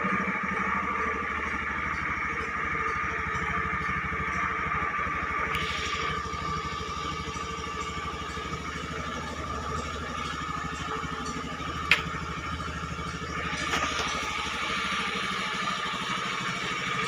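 An older Toyota Kijang LGX idles in a parking lot, its engine holding a steady, even hum at close range for the whole stretch with no voices.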